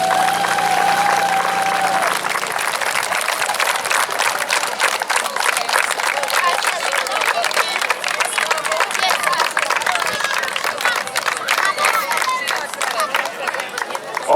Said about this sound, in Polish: naszym maluchom należą się wielkie brawa